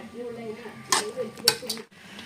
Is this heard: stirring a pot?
yes